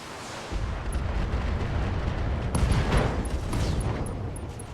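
Mech weapons fire in a dense volley in the BattleTech video game, with rumbling explosions and booms layered into a loud, sustained barrage after a brief quiet start.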